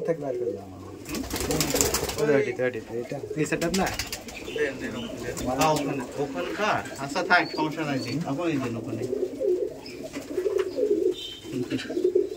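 Giribaz pigeons at a pigeon farm coo in low, rolling bursts throughout, with flapping and bird calls mixed in and someone talking over them.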